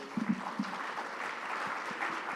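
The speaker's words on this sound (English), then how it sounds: "Can you clap for yourselves really quickly?" Brief, fairly faint clapping from a conference audience, a few distinct claps early then a soft scattered patter in a large room.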